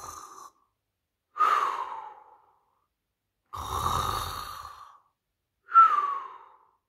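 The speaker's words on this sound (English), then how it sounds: "their snores rose in perfect harmony, bass, tenor, treble reverberating through the winter wind" Slow snoring breaths come in four separate rumbles with silent pauses between, close and soft, one deeper and rattlier than the others.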